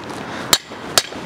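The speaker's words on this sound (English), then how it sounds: "Give this a couple of good whacks." Two sharp hammer whacks strike a brass punch seating wheel studs during a rear disc brake conversion on a dually GMT400 Chevy/GMC truck, spaced about half a second apart, loud and close.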